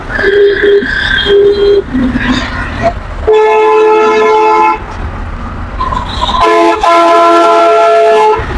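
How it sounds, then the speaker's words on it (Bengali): Loud train horn blasts come in several bursts, some long and sustained, with a voice and traffic noise between them, heard from a motorcycle stuck in a heavy road traffic jam. "এই ট্রেন"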